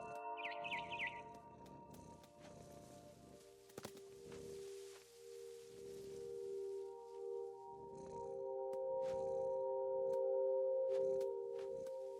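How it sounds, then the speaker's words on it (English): A barn swallow chirps in short high tweets early on in the video game What Remains of Edith Finch, then sustained tonal music and soft rustling carry on through the rest. "Then I heard chirping outside my window. It was a barn swallow going back to her nest."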